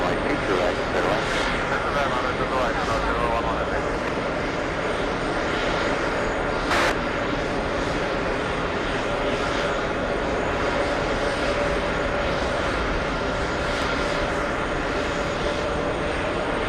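A KLM jet airliner roars down the runway on its takeoff roll at Los Angeles, a steady loud broadband engine rumble throughout, with a brief click partway and a radio voice faintly underneath.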